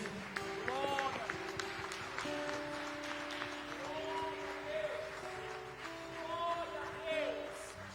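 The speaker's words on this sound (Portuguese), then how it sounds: "Vamos aplaudir a Ele por isso." Church congregation applauding during a worship service, a steady patter of clapping layered with sustained music or singing and voices throughout.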